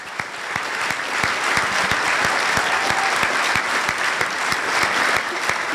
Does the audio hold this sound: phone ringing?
no